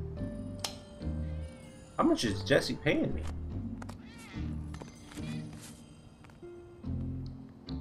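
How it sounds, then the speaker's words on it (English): Cat meowing in Final Fantasy 7 Remake, several short mewing cries mixed with someone speaking and game music. "Oh, that was the cat."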